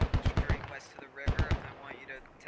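Rapid close gunshots in the military shooter Squad, a quick string of sharp cracks followed by a second burst, with a voice talking faintly between them.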